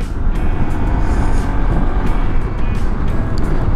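A Honda ADV 150 scooter being ridden makes a close, rumbling engine and road noise. Wind buffeting gives it an uneven texture, and the sound holds steady throughout with no talk.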